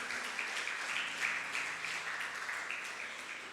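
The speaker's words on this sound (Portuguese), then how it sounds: "Pode aplaudir ao Senhor." Congregation applause during a church sermon, a soft, sustained ripple of clapping heard at moderate distance without speech over it.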